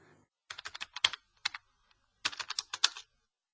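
Computer keyboard keys clatter in two quick bursts of typing separated by a short pause, crisp and close in a quiet room.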